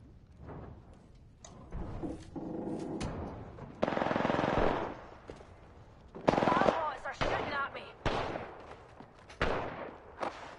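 Automatic gunfire bursts in the Apex Legends battle royale game, sharp and loud volleys repeating in uneven clusters with brief pauses, mixed with game effects and voices talking over the action.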